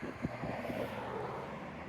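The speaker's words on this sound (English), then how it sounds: "It's pretty windy out here." Steady wind buffeting a microphone outdoors, a low rumbling roar with a few soft gusty thumps near the start.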